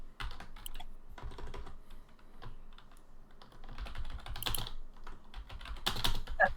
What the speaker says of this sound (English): And then there was typing.